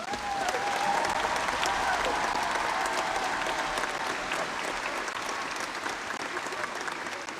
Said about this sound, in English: please give her a brilliant round of applause